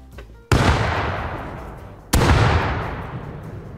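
Two grenades explode in the video game Rust, each a sudden loud boom with a long rumbling decay, about one and a half seconds apart, with no talking.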